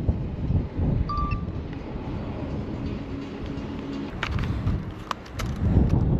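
Wind picks up outdoors, blowing in a broad rushing roar that buffets the microphone, with faint distant knocks and a brief high chirp, and no speech.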